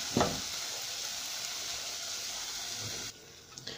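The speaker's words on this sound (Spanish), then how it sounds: "La vamos a freír por ambos lados." Steady, loud sizzling of a plantain and cream cheese empanada frying in hot oil, with a brief clatter near the start; the sizzle drops away abruptly near the end.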